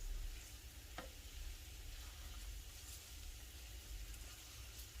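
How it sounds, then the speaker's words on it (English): Fish cooks in a pan for spaghetti puttanesca with chilli flakes, giving a faint, even, continuous sizzle and frying hiss with no talk over it. "Let your fish cook."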